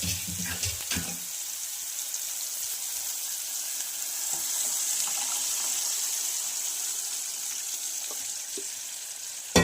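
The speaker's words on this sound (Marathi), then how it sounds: "यानंतर आपल्याला घालायचं आहे वरण" Cooked dal poured into a hot pot of spinach, with a short burst of splashing and clatter at the start, followed by a steady, moderate sizzle that continues alone to the end.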